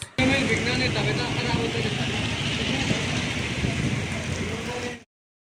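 Steady evening rain patters continuously near a flyover, with a low rumble of traffic or an engine underneath, until it cuts off abruptly near the end.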